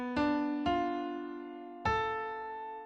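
Piano or keyboard plays a half-diminished chord built from stacked minor and major thirds: three separate notes enter one after another and ring together, then slowly decay, clear and solo.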